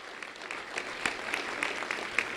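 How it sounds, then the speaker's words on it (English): Applause at a school awards event honoring Dunbar High School, steady crowd clapping throughout with a few louder claps standing out. "Round of applause for Dunbar High School."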